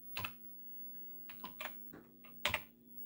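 Keys on an Atari computer keyboard are typed in a few separate sharp clicks, close and fairly quiet, with short gaps between the presses.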